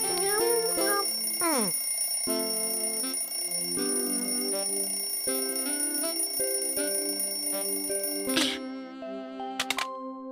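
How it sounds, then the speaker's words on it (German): A cartoon alarm clock rings in a bright, repeating, melodic electronic pattern with steady pulses throughout, ending in a few sharper jangling bursts near the close. "Oh, der Wecker klingelt."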